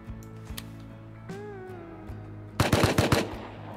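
Pistol gunfire in the survival game Rust, a quick burst of several sharp shots close together near the end, following quieter game ambience with a few isolated clicks.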